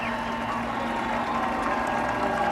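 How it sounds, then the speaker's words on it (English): A hometown crowd applauds Clint Bowyer's first win at Kansas Speedway after a NASCAR truck race, a steady, dense wash of clapping and cheering that holds at a constant level for the whole stretch. "He gets to get out and hear the applause of his hometown crowd"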